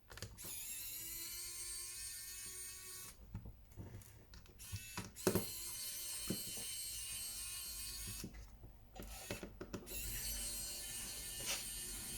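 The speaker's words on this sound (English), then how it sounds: "So first of all we need to unscrew all the screws on the back." Back screws coming out of an Alcatel U5 phone as a screwdriver turns, heard as faint, close whirring and ticking in bursts separated by short pauses, with no speech.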